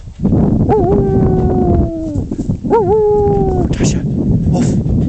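A dog lets out two long, rising-then-falling howls, close and loud, with a short gap between them and some background murmur.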